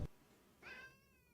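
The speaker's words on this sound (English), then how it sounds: "Oh, really, kitty cat? That's a big meow." A cat in the game Starfield gives one loud, drawn-out meow with clear harmonic tones, rising then trailing off, alone after a short thump at the start.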